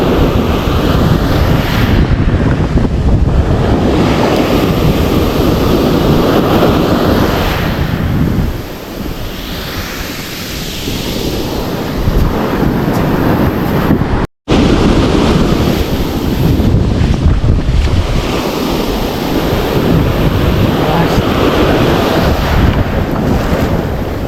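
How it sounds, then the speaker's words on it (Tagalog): Large ocean waves crash and roar continuously close by, mixed with heavy wind buffeting the microphone on a fishing trip at sea, with a brief dropout midway. "Ang alon sobrang laki"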